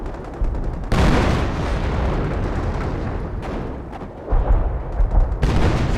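Sustained artillery barrage in the Company of Heroes real-time strategy game, a dense roar of overlapping explosions and booms rolling on continuously, loud and close, with heavier blasts surging in near the end.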